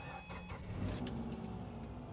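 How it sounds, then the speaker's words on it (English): A 2009 Subaru Forester with the EJ253 engine and about 151,000 miles cranks briefly and catches, then settles into a steady low idle, heard close by with a faint metallic jingle near the start. "I'm going to start it up one last time with the old engine."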